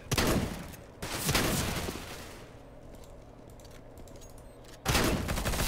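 Gunfire in CS:GO, a shotgun among the weapons, crashes out in loud, dense bursts: one at the start, another about a second later that tails off, and a final burst near the end after a quieter stretch.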